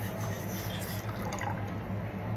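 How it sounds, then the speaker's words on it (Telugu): Water pours from a metal jug into a bowl at home, making a soft continuous trickle and splash, fairly faint and close, with no talking over it. "ఈ గిన్నెలో ఈ చెంబుడి నీళ్ళు పోసుకుంటున్నాను"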